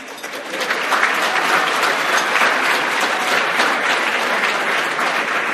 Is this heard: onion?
no